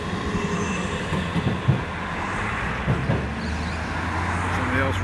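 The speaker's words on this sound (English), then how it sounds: "Here comes the tram now." A tram rumbles by on a city street amid steady traffic noise, with a few faint clanks and a low continuous drone throughout.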